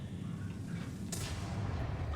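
A single heavy tank cannon blast from World of Tanks bursts out partway through, over a constant low engine rumble.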